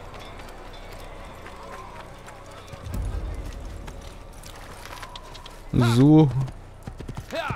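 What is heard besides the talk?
horse hooves galloping in Assassin's Creed video game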